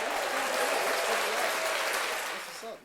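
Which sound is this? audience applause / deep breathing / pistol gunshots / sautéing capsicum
audience applause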